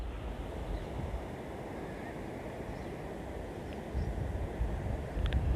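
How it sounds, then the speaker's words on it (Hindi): Water released from a dam on the Narmada River at Garudeshwar, Gujarat, flowing past a riverside ghat through an opened sluice gate, giving a steady, loud broadband rush that continues without a break. "यहाँ आगे ही डैम है, डैम से थोड़ा सा पानी छोड़ा हुआ है।"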